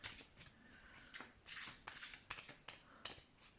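Tarot cards are shuffled for a pick-a-card reading, giving a series of soft, close riffling bursts in an irregular rhythm, quiet and with no talking.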